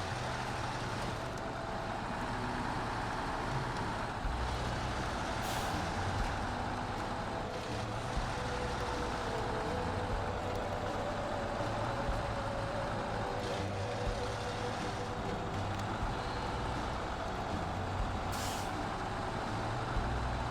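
Truck in SnowRunner working down a steep icy road: a continuous low engine rumble with hissing air-brake bursts, steady and close throughout.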